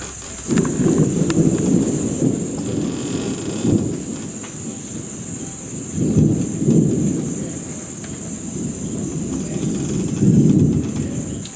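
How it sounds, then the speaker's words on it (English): Thunder rumbles in a thunderstorm with rain near a train ride through the Sri Lankan hills from Kandy to Ella. Several deep rolling booms swell and fade over a steady hiss of rain, with a thin high whine running throughout. "And there it is on cue, the storm. There's the thunder."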